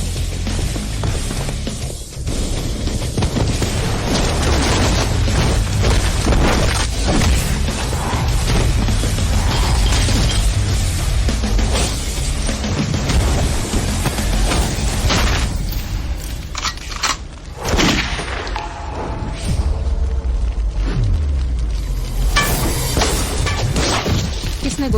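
Loud, chaotic bangs and crashes fill the scene, with sharp gunshot-like bursts and impacts layered over a dense, continuous roar.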